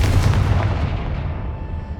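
A Confringo fire spell blasts in Hogwarts Legacy, a loud, dense booming burst with heavy low rumble that rolls on steadily and fades only slightly across two seconds, with no voices.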